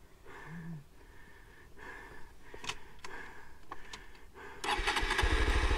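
A motorcycle that fell in deep sand on a trip through Jalapão is restarted. Faint cranking clicks and sputters build to the engine catching and roaring loudly, then a steady, close, throbbing idle.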